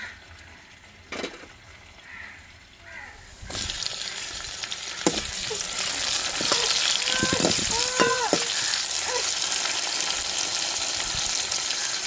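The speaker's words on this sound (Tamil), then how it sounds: "வெங்காயம் பச்சை மிளகாய் வதங்கி வந்துருச்சு வெட்டி வச்ச தக்காளி சேர்த்துக்குருவாங்க" Onion, green chili and cut tomato sautéing in a pan for a fish curry rise from quiet to a strong sizzling hiss, with a few clattering bumps and stirring sounds scattered through the frying.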